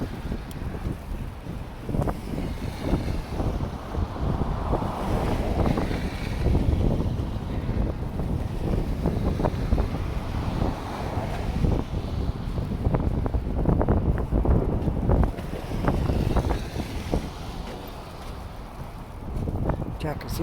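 Strong wind gusts roar continuously across a microphone on a bridge during a snowstorm, a dense, buffeting rumble that stays loud throughout with no clear pauses.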